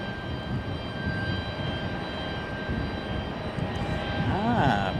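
A Delta Boeing 757 jet at Raleigh Durham airport gives a steady, loud engine roar throughout, with a rising whine near the end and a voice talking over it.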